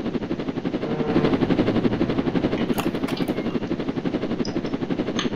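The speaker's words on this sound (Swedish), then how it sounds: "nu jag ska hämta helikoptern och flyga" A helicopter in a Roblox game, its steady rotor chop pulsing loud and close throughout with a dense, even thrum.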